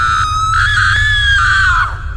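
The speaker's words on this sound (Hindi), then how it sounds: "तभी बाहर से किसी की चीखने की आवाज आती है।" A loud, sustained cartoon scream comes from outside a haunted hospital, one long piercing wail that rises slightly and holds for about two seconds before trailing off. No one speaks over it.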